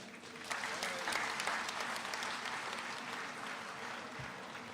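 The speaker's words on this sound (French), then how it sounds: "Plus d'acclamations pour Nathanaël Minungu." Audience applause with scattered cheering at an official opening ceremony of the 17th SIAO fair, a dense steady wash of clapping that swells early and holds fairly even throughout.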